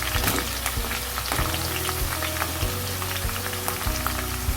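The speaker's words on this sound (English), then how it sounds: "Frying all on high" Onions and cauliflower fry on high heat for a vegetable dum biryani, giving a steady close sizzle with scattered pops and crackles throughout, no voices.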